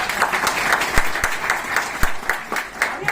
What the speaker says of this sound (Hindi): एक बात जोरदार तालियां